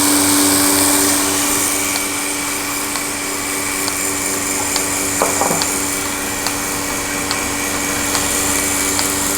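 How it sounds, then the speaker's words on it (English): A DM4 goat milking machine's vacuum pump runs with a steady, close mechanical hum while its pulsator ticks at a regular, roughly once-per-second rhythm, with no voices over it. "You hear your pulsator starting to work and your pressure's going up."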